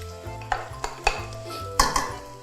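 Wide rice noodles with pork and dark soy sauce stir-fried in a pan: a metal spatula scrapes and clanks against the pan in several sharp, close strikes over a low sizzle.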